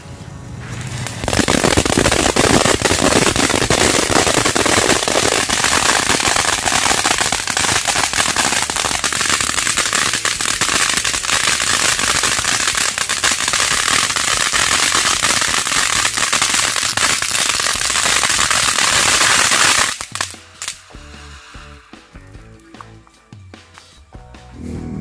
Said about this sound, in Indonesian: Suaranya sangat berisik ya. Air mancurnya bagus banget.